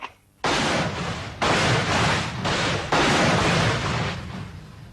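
Heavy artillery gunfire from the Bangladesh liberation war, a run of loud broadband blasts following one another after a brief quiet start, each burst rumbling and washing into the next with no talk.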